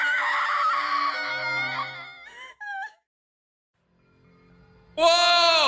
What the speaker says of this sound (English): Mukuro unleashed a scream into the world.